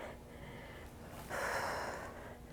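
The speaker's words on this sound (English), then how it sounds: "Exhale as you twist" A forceful breath is pushed out during a twisting move in a stability ball workout, one short audible exhale after a quieter breath, close and fairly soft.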